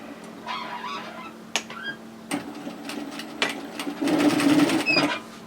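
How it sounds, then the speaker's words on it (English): Sewing machine stitching a skirt seam at a one-centimetre allowance: short bursts of mechanical whirring with clicks and handling noises, the loudest run near the end. "we're going to sew this at 1 centimetre, which is 3/8 of an inch."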